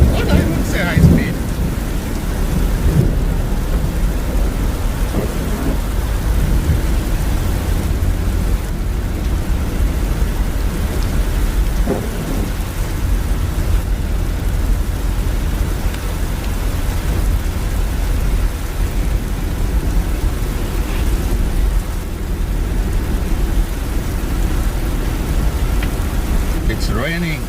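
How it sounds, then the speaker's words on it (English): Heavy rain pours in Dubai during a thunderstorm, a dense steady hiss of rain hitting surfaces, with deep thunder rumbling now and then and faint voices underneath. "It's raining cats and dogs in Dubai."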